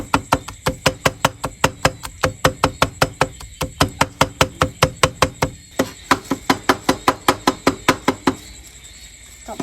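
Garlic pounded in a mortar with a pestle during home cooking, a long steady run of loud, evenly spaced thuds at about three per second, with a brief pause partway through and a softer hollow tail at the end.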